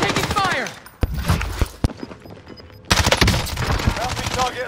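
Rapid video-game gunfire in a battle-royale match with an MP5 submachine gun, bursts of close shots broken by short pauses and single sharp cracks, with someone talking over it.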